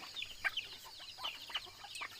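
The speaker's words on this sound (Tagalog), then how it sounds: "Napay mga manok na dito." Chickens clucking softly at a distance, several short scattered calls in a quiet rural yard.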